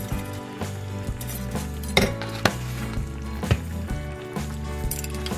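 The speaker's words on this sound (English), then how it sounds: "Mix it well." A spoon stirring banana blossoms in coconut milk in a pot, with steady scraping and occasional metallic clinks against the pot, close up over a continuous low background hum.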